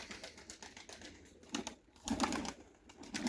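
Pigeons in a keeper's loft give soft, throaty coos over a steady background of light clicks and shuffling, heard at moderate distance.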